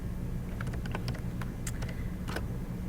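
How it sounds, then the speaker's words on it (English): Keys clatter on a computer keyboard in an irregular run of crisp, close taps over a low steady background hum, with no one talking. "It's hard to talk and type at the same time."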